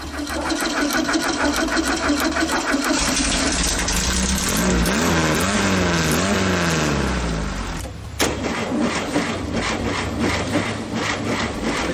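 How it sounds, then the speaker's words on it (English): A replacement starter cranks the air-cooled VW engine on an ATVW, a homemade VW-powered motorcycle, with a fast, steady whirring churn that runs for several seconds before cutting off, followed by lighter mechanical rattling. "The replacement starter does turn over so much faster than the old one, which makes this ATVW even easier to start."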